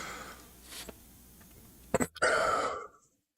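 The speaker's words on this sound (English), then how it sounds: "I've got a cold, so I'll be coughing and hacking during this time" A man with a cold clears his throat in a couple of short, harsh bursts, followed by a louder raspy cough-like exhale, close to the microphone in an otherwise quiet room.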